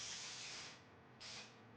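Generic spray glue of the misting kind hisses out of an aerosol can in a garage during car headliner work: one longer burst, a short pause, then a second shorter spray, all fairly faint.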